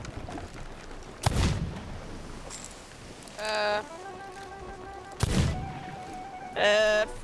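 Two heavy ship cannon blasts ring out about four seconds apart in the Sea of Thieves pirate game, each a loud booming burst. Short tonal game chimes follow each shot.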